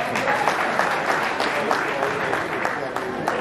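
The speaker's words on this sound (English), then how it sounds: "Please, round of applause for him." Audience applause for a guest at a comedy show, steady dense clapping from a crowd filling the whole stretch with no talk over it.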